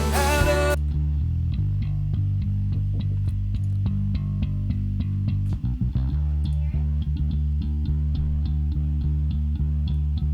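Bass guitar played through a Line 6 Pod X3 Live modeler, giving a steady run of low plucked notes with a brief bright flourish at the start, close and loud with no talking.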